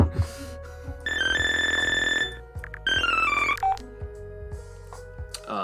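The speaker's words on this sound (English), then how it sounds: "We had to make a separate sound channel just for this ringtone." An electronic ringtone plays in sustained synthetic beeping tones, two long bursts separated by a short gap, then brief chirps, loud and close with no talking over it.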